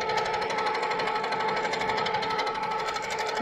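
A sit-down longarm quilting machine stitches in manual mode at a quick pace, producing a steady, rapid mechanical chatter of needle strokes that continues evenly throughout at moderate loudness.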